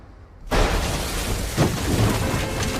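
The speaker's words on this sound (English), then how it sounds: "Boom! Lightning hit." A lightning strike lands near a car, a sudden loud thunderous crack that blasts in and rolls on as a broad, heavy rumble.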